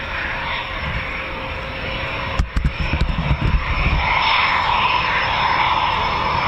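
A Eurofighter Typhoon FGR4 jet at RAF Coningsby gives a loud, steady roar throughout, broken by a cluster of sharp cracks and rumbling swells near the middle, with no voices.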